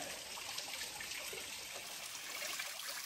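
A thin, steady trickle of water from a nearly dry waterfall at Ghatshila in Jharkhand, faint and continuous with a soft hiss and no voices.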